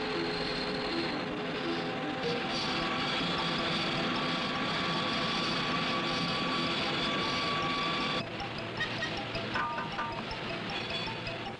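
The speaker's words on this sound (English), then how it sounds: "An induction furnace." Induction furnace running in a rifle factory, brazing shotgun magazine tubes to receivers: a steady, loud broadband roar with a constant hum, continuous throughout and briefly shifting in tone near the end.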